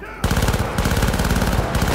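Rapid automatic gunfire from the video game Syndicate rattles in fast, continuous bursts, loud and close, with a brief pause before the firing resumes.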